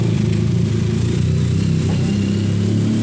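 A Yamaha RX King motorcycle engine idles steadily nearby, its low two-stroke rumble loud and unbroken throughout.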